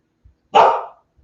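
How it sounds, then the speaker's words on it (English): A single loud bark from a dog nearby breaks an otherwise silent room, sharp at onset and trailing off over about half a second. "You know how they love to bark when you're up."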